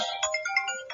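A mobile phone ringtone plays alone, a bright repeating electronic melody with short pulsing notes filling the full second at moderate volume.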